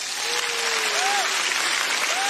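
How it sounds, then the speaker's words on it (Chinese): A crowd at the 60th Golden Horse Awards ceremony claps in a loud, dense, sustained burst of applause that fills the hall, with a faint tonal cue gliding beneath it. "我希望大家现在给自己一个最大最热烈的掌声"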